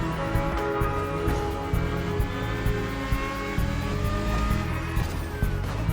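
Modified race cars speed around a course in the video game Motorfest. A steady engine drone with rhythmic surges and thumps runs continuously, with no talking.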